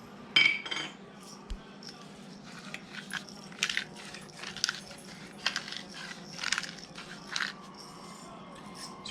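Utensil stirring shredded coleslaw and sugar in a bowl, a series of soft scrapes and light clinks spaced a second or so apart, close and fairly quiet.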